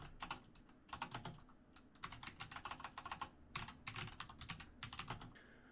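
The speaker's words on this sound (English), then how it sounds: "I'm going to do a little typing right here to kind of give you a little bit more of what it sounds like." Typing on a Razer BlackWidow Chroma V2 mechanical keyboard, bursts of crisp clicky keystrokes in quick rhythmic runs separated by short pauses, close and clear with no voices.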